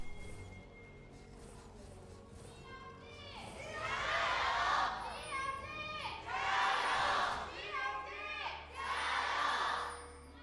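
Esports crowd at an LPL League of Legends match between IG and another team, cheering in three loud swelling bursts with quieter crowd murmur and an announcer's voice between them.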